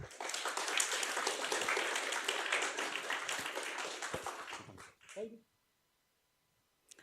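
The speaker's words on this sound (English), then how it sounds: "applause for Agnes, please" Audience at a university game jam event applauding as a speaker comes to the stage, a dense, even burst of clapping lasting several seconds that stops abruptly, followed by a short spoken voice and then silence.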